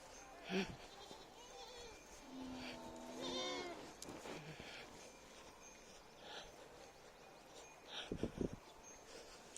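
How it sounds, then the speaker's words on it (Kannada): Goats and sheep bleat in a rural Indian village farm setting, a few wavering cries at moderate distance over steady outdoor background noise, with people talking faintly at times. "ಆಡು ಕುರಿ"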